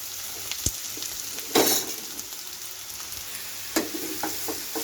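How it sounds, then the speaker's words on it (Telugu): Prawns sizzle steadily in a pan, with a louder rustling thud as ridge gourd is dropped in and a few scraping stirs afterward, close and moderately quiet. "మంచిగా వేగాయి రొయ్యలు ఇప్పుడు ఇందులో బీరకాయ వేసుకుందాము"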